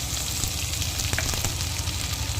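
Grated coconut fries in a pan for a taro-leaf dish, producing a steady close sizzle with a couple of quick stirring clicks midway.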